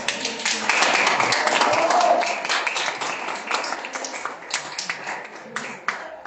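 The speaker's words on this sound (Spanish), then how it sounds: "Dan un fuerte aplauso a él." A church congregation breaks into applause, a dense wash of clapping that swells early and then thins into scattered claps, with a voice talking over it.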